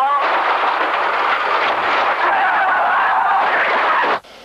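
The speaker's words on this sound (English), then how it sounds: "the captain can be heard calling for full power just as the sound of the crash begins" Delta Flight 1141 airliner crash on the cockpit voice recording: a loud, harsh broadband roar and rumble fills the whole span, sustained and distorted before cutting off abruptly near the end.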